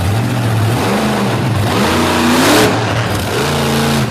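A race car with a 468 cubic inch Chevrolet engine revs loud and close, pitch climbing, dipping and surging again in continuous throttle blips with no talking.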